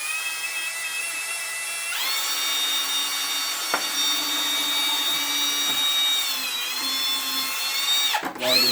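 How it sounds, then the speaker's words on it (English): A power drill whines steadily while boring a small pilot hole for a fuel line shutoff on a Toro snow blower, its pitch rising as it speeds up, close and continuous with a brief clunk near the end. "So first we're just going to drill a small pilot hole."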